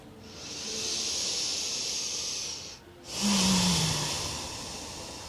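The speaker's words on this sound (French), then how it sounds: "écouter le bruit de sa respiration" Two slow, deep breaths during a yoga session, a long hissing exhale followed by a brief pause and another full breath, close and loud with no talking.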